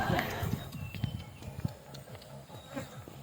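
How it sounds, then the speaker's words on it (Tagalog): A carabao, or water buffalo, walks while carrying a rider, its hoofsteps falling in a loose, uneven rhythm close by, mixed with people talking and buzzing insects. "Ang saya pala magsakay dito sa kalabaw."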